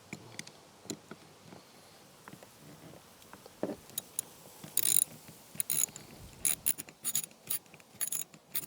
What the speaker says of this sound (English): I'll just do it with a socket wrench and holding that with a gloved hand